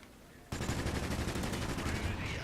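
Rapid bursts of gunfire from Call of Duty: Ghosts on Xbox One erupt suddenly after a brief quiet moment and continue steadily, loud and close.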